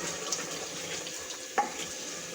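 Beef handi gosht is stirred and fried in a pot, a soft, fairly faint sizzle with scraping stirring strokes and one sharper clack partway through.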